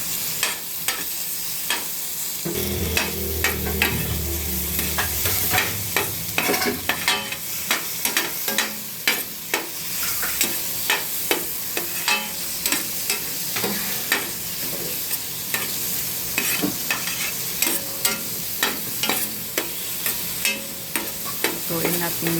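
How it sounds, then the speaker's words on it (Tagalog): Onion, garlic and tomato sautéing in a pan for shrimp sinigang, a steady sizzle with repeated clicking strokes of a utensil stirring against the pan, close and continuous. "Lutuin natin maigi yung ating sibuyas, bawang at saka kamatis para lumabas yung aroma"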